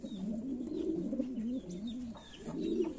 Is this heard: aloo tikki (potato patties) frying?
no